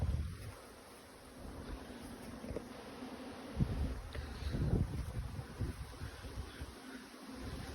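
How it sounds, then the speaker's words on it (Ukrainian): Honey bees buzz faintly outdoors amid gusty wind, the humming drifting in and out under soft rushes of air. "Бджілки працюють, сьогодні вітряно, але літають."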